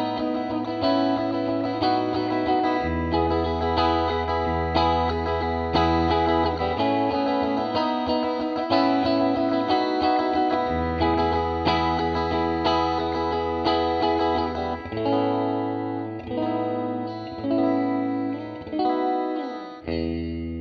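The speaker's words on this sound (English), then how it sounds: "plate reverb sounds great with pretty much all guitar" An electric guitar run through a TC Electronic Hall of Fame pedal on its plate reverb setting plays sustained chords and notes for about twenty seconds, each wash ringing out in a shimmering tail, with no voices.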